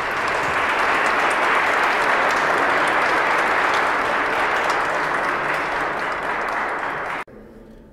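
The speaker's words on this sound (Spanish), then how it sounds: "Les damos un aplauso," Wedding guests at a Spanish-language church ceremony applaud in a dense, steady roar of clapping that holds for about seven seconds, then cuts off abruptly into near silence.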